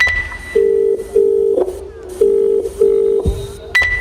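An unanswered phone call rings out through the earpiece as a repeating ringback tone, with steady paired beeps separated by short pauses, fairly loud and clear and with no voices.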